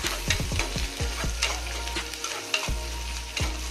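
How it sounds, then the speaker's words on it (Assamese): Onions frying in a pan make a continuous sizzle, with repeated clattering strokes of a spatula stirring them at an irregular pace, close and clear, with no voices. "মই পিঁয়াজখিনি ফ্ৰাই কৰিলোঁ।"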